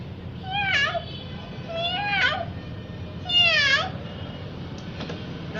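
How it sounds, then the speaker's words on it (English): A cat meows three times in drawn-out, rising and falling calls with short gaps between them, close and clear over a low background hum. "The sound of cat."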